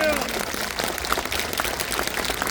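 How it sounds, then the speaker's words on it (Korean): A congregation at an outdoor Easter union worship service on the Ulsan riverside claps in thanks, a crowd of hands pattering like rain and mixed with voices throughout the brief burst. "우리 하나님께 감사의 박수 한번 해요."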